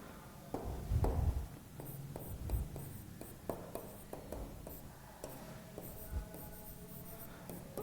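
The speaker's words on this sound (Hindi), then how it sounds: "नोट में आप यहाँ भी लिख सकते हो" Notes on an odd-integer example for a number system maths lecture are written on a board, heard as a series of close taps and scratchy strokes with some thumps, moderately loud against a low room hum.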